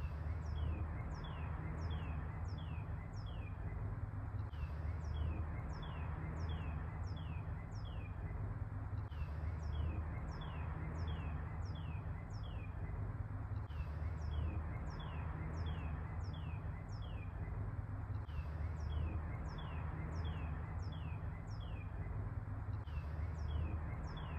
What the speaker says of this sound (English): Listen at this bird.